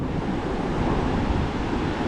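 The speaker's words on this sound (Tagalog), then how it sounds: "Makikita nyo naman kung gaano kalalaki yung alon." Big storm-driven waves surge onto a beach, a steady broadband roar of surf with gusting wind noise hitting the microphone throughout, loud and continuous with no distinct breaks.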